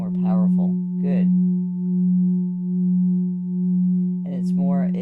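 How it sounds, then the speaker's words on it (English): A low sine wave tone with a slow, regular wobble in loudness, pulsing about once a second, heard during a live chakra scan and alignment session; a person talks over it at the start and end. "you can hear that sine wave, that wobble"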